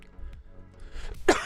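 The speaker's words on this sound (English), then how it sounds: "Oh, that cough came out of nowhere." One short, harsh cough bursts out near the end, close to the microphone, after a stretch of quiet low background hum during a gaming tournament stream.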